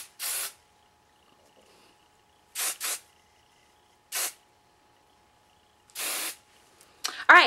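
Hairspray is sprayed onto curled hair in short hissing bursts, five near, crisp sprays separated by pauses, with a faint voice and a small clatter at the end.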